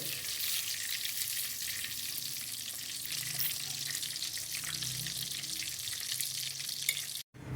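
Stuffed karela (bitter gourd) fries in hot oil with a dense, continuous sizzle that holds steady and loud, then cuts out briefly just before the end.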